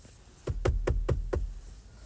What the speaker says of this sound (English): She placed the baby down onto the front step and knocked on the door.